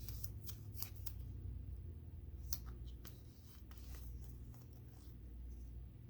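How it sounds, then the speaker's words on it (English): Foam tape is pressed onto the back of a papercraft Christmas card, with short crisp rustles, taps and crinkles in an irregular rhythm over a low steady background hum. "I'm just going to add some more foam tape onto the back of it."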